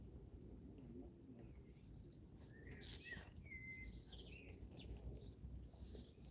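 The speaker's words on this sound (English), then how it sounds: "I can hear the goldfinches from here. They're going nuts. I love the way they chatter." Goldfinches chatter in a garden, a few bright, quick chirps and twittering calls rising over steady low background rumble, moderately distant and fairly faint.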